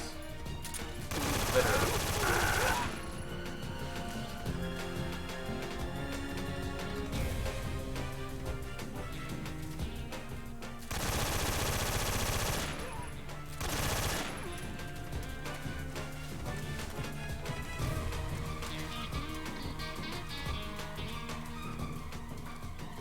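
Heavy gunfire in Metal Gear Solid 3 comes in loud sustained automatic bursts separated by stretches of game music and effects, with someone briefly talking over it.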